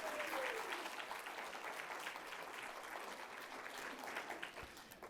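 Audience at a mental health and disability summit applauds steadily, a dense, even wash of clapping heard from a distance, with a brief voice at the start.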